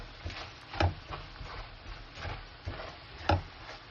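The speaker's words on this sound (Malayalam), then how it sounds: "സ്പൂൺ മഞ്ഞപ്പൊടിയും കൂടി ഇടുക. എന്നിട്ട് ചെറുതായിട്ട് ഒന്നുകൂടെ ഇളക്കി കൊടുക്കുക" Turmeric and spices are stirred into a beef pickle in a pan: soft, rhythmic scraping strokes recur every half second or so, with a couple of louder knocks against the pan, all fairly quiet and close.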